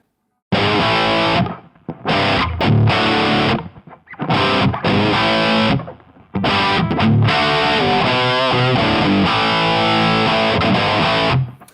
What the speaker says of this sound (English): that's your crunchy Plexi rhythm